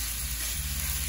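Beef added to the side of a hot oiled pan with potatoes and red chile, giving a steady close sizzle and frying hiss that fills the whole moment, with a low hum underneath.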